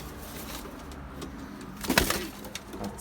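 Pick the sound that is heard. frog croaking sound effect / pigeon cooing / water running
pigeon cooing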